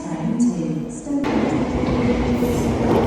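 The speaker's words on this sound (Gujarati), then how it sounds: "આપણે ટ્રેન પણ આવી ગઈ છે" A train pulls into a station platform, its broadband rumble swelling loud and close midway and holding steady to the end, with people talking nearby.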